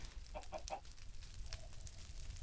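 Chickens in a video game cluck in a quick burst of three short calls, then a fainter one a moment later, heard over a dense crackling, roaring fire with a burning fence nearby.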